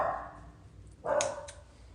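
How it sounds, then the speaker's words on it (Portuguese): A dog barks outside in a garden, with a few short barks, moderately distant, alone without talk. "Minha cachorra tá fazendo sucesso ali fora."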